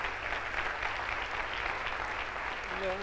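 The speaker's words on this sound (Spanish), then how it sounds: "Fortísimo aplauso." An audience at a colloquium on César Manrique applauds steadily, a dense, even wash of clapping filling the whole stretch, with a brief voice coming in at the very end.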